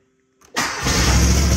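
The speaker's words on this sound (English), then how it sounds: "So I have my greens mower back." A golf course greens mower engine cranking over and catching, then settling into a loud, steady running roar close by after a short silence.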